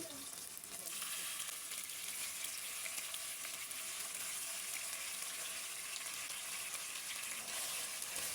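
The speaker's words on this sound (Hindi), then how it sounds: "और चिकन को थोड़ा सा फ्राई कर लेंगे" Chicken frying in hot oil with whole garam masala and cumin in a kadai for white biryani, a steady, dense sizzle that holds evenly throughout with no talk.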